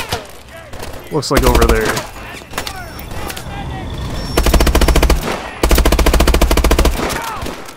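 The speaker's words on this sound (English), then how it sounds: "Where's that bullet being fired from?" Gunfire in Call of Duty: Advanced Warfare on the Fission map, loud rapid automatic bursts that come in several long strings with short pauses, and a voice briefly speaking between them.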